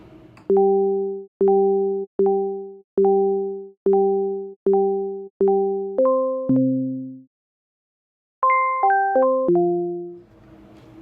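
A warm synthesized bell patch plays a run of evenly spaced, clean struck tones, then a short pause and a quicker descending melodic phrase, each note ringing briefly and decaying, alone without voices.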